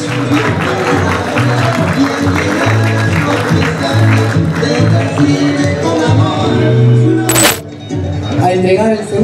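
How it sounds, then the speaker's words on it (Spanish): Applause from the audience at a school award ceremony: many hands clap in a loud, busy crowd, mixed with voices and some clinking, holding steady for the whole stretch. "Aplausos."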